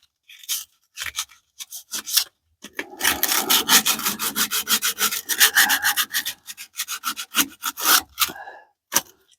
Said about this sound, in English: we're going to clean this off with some sandpaper, because this is the old pipe